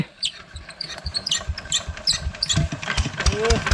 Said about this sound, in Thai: ติดเครื่องกันแล้วครับ